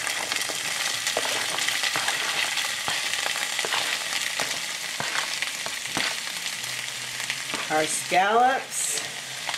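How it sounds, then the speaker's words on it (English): Rice, peppers and onions fry in hot oil in a sauté pan, giving a steady loud sizzle with crackles throughout and a brief voice speaking near the end. "So we heated some oil in a saute pan. We're going to add our rice, our peppers and onions,"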